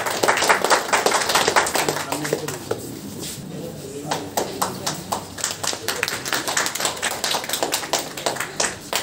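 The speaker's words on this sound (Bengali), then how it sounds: "আমরা করতালির মধ্যে অভিনন্দন জানাই।" Ceremony audience claps in welcome during a honouring with a citation presentation, a dense patter of hand claps that thins out midway before swelling again, with brief speech nearby.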